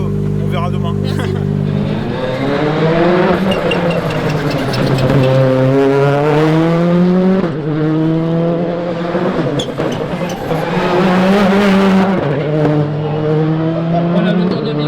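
Rally car racing hard through a stage at the Rallye de la Côte Fleurie 2025, engine loud and close with repeated rising revs and gear shifts, sustained throughout.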